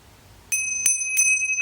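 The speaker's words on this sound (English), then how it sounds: "just ring the bell," A bell rung three times in a tarot card reading to clear the energy, each strike sharp and bright with ringing tones that sustain and overlap, close and clear with no talk.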